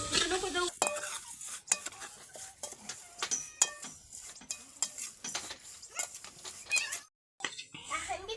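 Puffed rice chivda roasting in a pan over a wood-fired stove is stirred with a spatula, giving repeated close scraping, rustling and clinking strokes, with a voice talking partway through.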